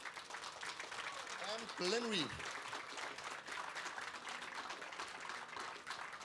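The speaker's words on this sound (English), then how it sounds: "So, big applause for BleepTrack" An audience at a hacker congress talk claps steadily, a broad sustained wash of many hands at a moderate distance, while a voice briefly speaks over the clapping.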